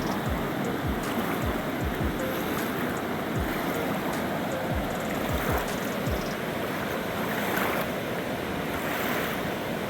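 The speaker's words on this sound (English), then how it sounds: "The waterfall, one of the few on the southern stretch of the Appalachian Trail, is a beautiful rushing cascade that flows under a forest canopy of hemlock" A rushing waterfall cascade on the Chattooga River in a forest setting gives a constant broadband roar, close and steady throughout, with some wind buffeting on the microphone.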